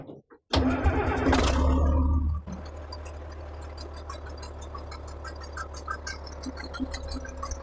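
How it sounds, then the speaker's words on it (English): A 1974 Caterpillar 977L Traxcavator diesel engine cranks briefly, catches with a loud roar, then settles into a steady, rumbling idle with a loud exhaust. "we are going to see if it will actually crank up today and see how it sounds today"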